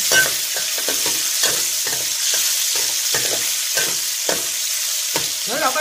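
Sliced pork neck stir-fried with fresh chili in a hot pan: steady loud sizzle with rhythmic scraping strokes of a spatula repeating about once a second, close up, no talk.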